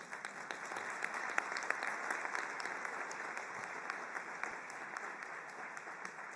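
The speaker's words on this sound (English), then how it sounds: "I think we should give them an applause" Applause for the interpreters at a UN meeting with High Commissioner Filippo Grandi: a steady, even wash of clapping from a large hall, fairly distant and soft, with no voices over it.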